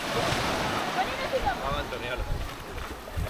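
Ocean surf washing onto the beach at Land's End in Cornwall, a continuous rushing wash with gusty wind buffeting the microphone throughout.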